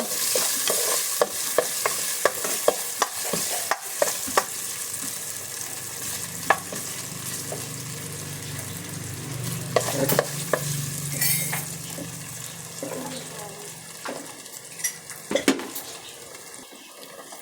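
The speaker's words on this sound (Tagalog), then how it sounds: "Sangkot ka muna natin yung luya." Ginger sautéing in a pan for dinuguan, soft continuous sizzle broken by frequent sharp clicks and scrapes of a utensil against the pan, close up with a faint watery hiss.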